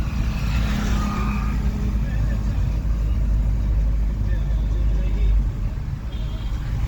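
A learner drives a car during a final training session, its engine a steady low rumble throughout with road noise, while people talk quietly inside the cabin.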